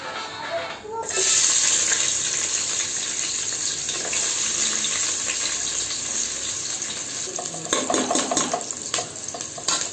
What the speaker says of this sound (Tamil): இப்போ எண்ணெய் சூடாயிடுச்சு. பட்டை கிராம்புல போட்டுக்கலாம். வெங்காயம் போட்டுக்கலாம்.